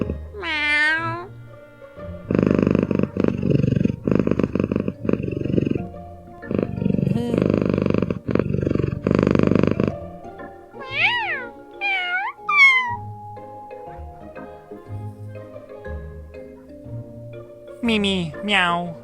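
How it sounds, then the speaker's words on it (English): A cartoon kitten in an iOS adventure game gives a few drawn-out meows, with a stretch of dense, rough purring-like bursts in the middle. Later come more short rising and falling meows, fairly close and clear. "Aww. Good kitten."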